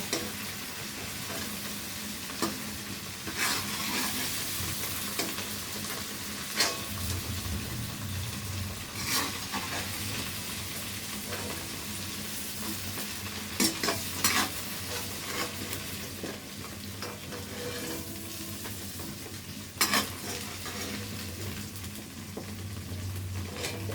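Steady hissing sizzle of fish frying in oil fills the whole stretch, close and even, with occasional scrapes and clicks of a utensil.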